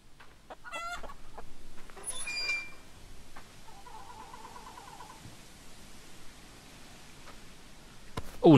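Chickens clucking in the video game Hollow Cocoon, three hens giving a few soft clucks and cackles heard faintly over a quiet, rumbling ambient background, with a sharper burst of noise at the very end.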